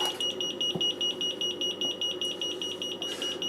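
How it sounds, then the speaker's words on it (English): A piezo alarm bleeper gives a steady, shrill, continuous beeping tone, loud and close, with faint background clatter and no talking. "I'm going to unsolder this bleeper. It's driving me nuts."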